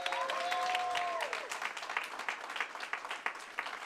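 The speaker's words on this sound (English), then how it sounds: "Let's give them a big round of applause." An audience at a school board meeting applauds student winners with a lively burst of clapping, while faint tones and cheering voices sound briefly at the start.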